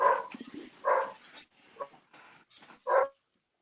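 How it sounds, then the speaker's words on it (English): A dog barks several times indoors, sharp separate yaps with short gaps and a whimpering edge, fairly close and alone without talk. "The dog is killing the tension, Dave."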